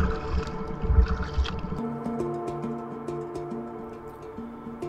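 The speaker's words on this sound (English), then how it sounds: "First chunk of the trip that I'm paddling by myself" A lone kayaker paddles on a lake along the Erie Canal, with gusty wind rumble on the microphone at first, then quieter open-water ambience and faint paddle splashes.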